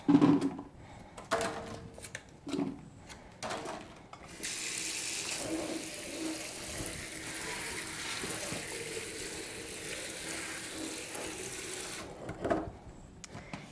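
Blueberries are rinsed under a running kitchen tap into a sink, with a few clunks and splashes before a steady close stream of water that stops near the end.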